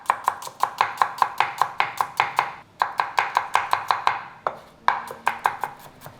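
A knife chops shallots finely on a board in a fast, even rhythm of sharp close taps, pausing briefly twice before the steady chopping resumes; no voices.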